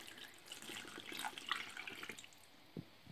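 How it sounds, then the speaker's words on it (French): Water pours into a cooking pot for a roast chicken stock, a soft continuous splashing stream at close range that eases off, ending with a brief knock, and no one speaking. "Et je viens rajouter maintenant de l'eau. 1 litre d'eau."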